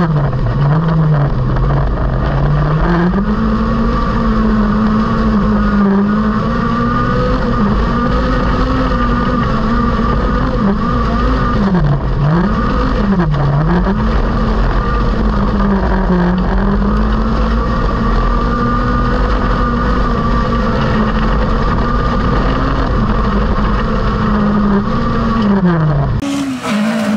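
A VW 16V AFH car engine with a 020 racing gearbox runs loudly and steadily for a long stretch, its pitch rising and dipping slightly as it's revved, with no talking.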